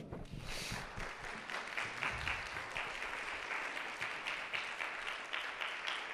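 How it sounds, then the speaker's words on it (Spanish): A church congregation applauds after a sermon on the resurrection, sustained rippling clapping from many hands, fairly distant and quiet, with no talking over it. "Dale un aplauso al Señor"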